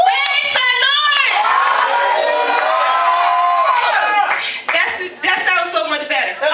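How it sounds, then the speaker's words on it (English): Church congregation at a worship service clapping and cheering loudly, with shouts and whoops over sustained applause that tapers off near the end. "Give her a round of applause."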